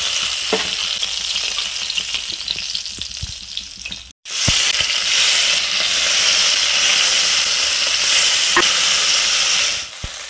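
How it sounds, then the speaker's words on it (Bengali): Pona fish frying in hot oil in a pan, a loud, steady crackling sizzle that continues close up, broken only by a brief gap near the middle. "এই যে বন্ধুরা লাল লাল করে মাছ ভাজা হয়ে গিয়েছে"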